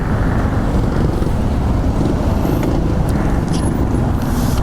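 Road traffic around a motorcycle in morning congestion between Reina Regente and Abad Santos after rain, a dense, steady roar of engines and tyres with faint higher sounds over it.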